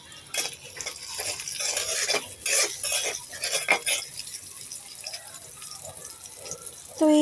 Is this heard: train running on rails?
no